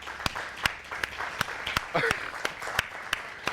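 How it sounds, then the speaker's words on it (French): Applause welcoming a guest, couturier Pathé'O, onto a morning radio-TV show set; a soft bed of clapping with sharp individual claps standing out at a steady pace, while speech rises briefly over it midway. "Acclamation pour l'accueillir, s'il vous plaît."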